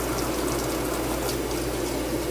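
Tap water runs steadily over a metal lab specimen during rinsing, a close, continuous broadband wash with no voices.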